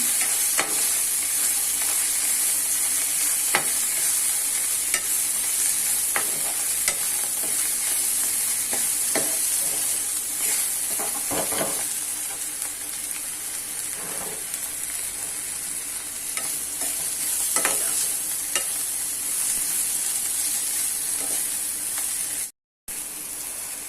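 A sambar chili powder mixture being stirred in a frying pan, with a continuous soft sizzle and hiss under irregular scraping stirs, steady and close, no talking.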